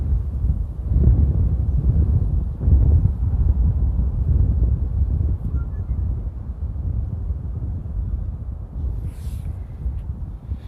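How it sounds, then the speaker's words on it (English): Steady wind buffets the microphone at Amsterdam Airport with low, rumbling gusts throughout, loud and constant, with no other clear sounds. "as you guys can probably hear, it's pretty windy"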